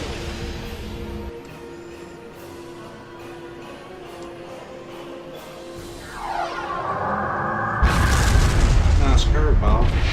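A low rumbling hum gives way to a sudden heavy burst of booming starship cannon fire and crackling blasts, loud and sustained, in a Star Trek Online space battle.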